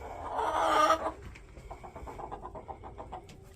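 Chickens cluck close by in a coop during a morning routine, one loud squawk first, then a run of quick rhythmic clucks from the hens.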